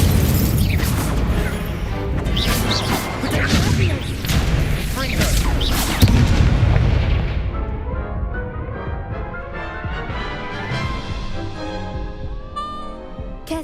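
Incendio fire spell effects from the video game Hogwarts Legacy, with loud booming, crackling blasts that build and then fade into a sparkling, ringing tail.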